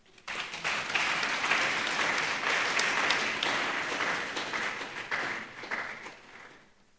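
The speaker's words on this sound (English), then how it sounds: "I want to ask for another applause." A lecture audience breaks into applause. Many hands clap in a dense, sustained burst that rises quickly, holds steady, then tapers off toward the end.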